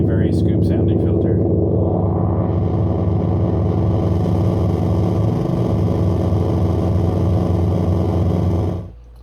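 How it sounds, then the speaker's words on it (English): A Medium Tim effects pedal with a scooped filter applied plays a sustained, dense distorted tone at high volume, holding steady before cutting off abruptly near the end. "This is a very scoop sounding filter."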